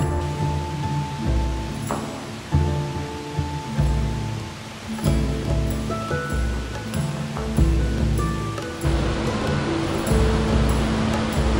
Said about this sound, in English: I can hear that water roaring down the hills.